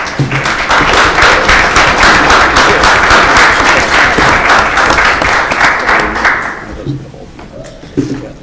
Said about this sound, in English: Don't hesitate to give her a nice round of applause.